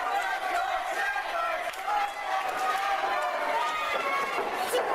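A large crowd at a live professional wrestling event in Toledo, Ohio roars and chants continuously, a dense, sustained wash of voices heard at a distance with rhythmic swells.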